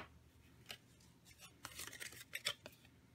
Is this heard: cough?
no